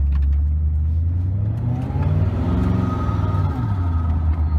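A Koenigsegg Regera pulls away at roughly one-third throttle. Its engine gives a loud, close, deep rumbling drone that swells smoothly in pitch as the car gathers speed, with no voices.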